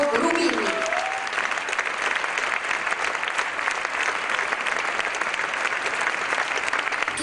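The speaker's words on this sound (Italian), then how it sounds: "Applauso, il Quintetto Atlantico e Sergio Rubini." Sustained audience applause for the Quintetto Atlantico and Sergio Rubini, a thick, even wash of clapping that runs throughout, with a short voice briefly audible at the very start.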